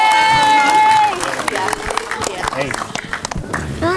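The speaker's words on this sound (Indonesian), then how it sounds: "Lagi tepuk tangan dulu dong untuk film yang baru saja." At a gala film premiere, an audience breaks into a burst of clapping and cheering, with crowd noise and voices mixed through the busy applause.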